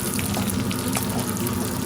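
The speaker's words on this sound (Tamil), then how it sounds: "அந்த பொரிகிற சத்தம் அதெல்லாம் வந்து ரொம்ப இம்பார்ட்டண்டா" Chicken 65 fries in hot oil with a dense, continuous sizzle and crackle. Small pops rise over the steady hiss, heard up close and without voices.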